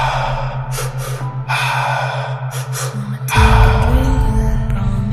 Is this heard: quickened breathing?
yes